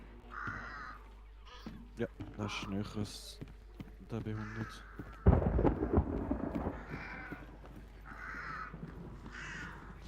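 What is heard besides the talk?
crows cawing in the video game Hunt: Showdown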